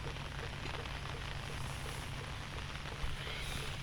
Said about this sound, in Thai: ฝนยังตกอยู่